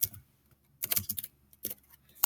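Computer keyboard keys tapped while coding Python, coming in short bursts of quick, close clicks separated by brief pauses.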